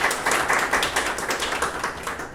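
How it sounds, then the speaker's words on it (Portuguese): Rhythmic clapping from a small audience at a university thesis defense, a steady run of closely spaced claps filling the whole stretch. "merece uma salva de palmas."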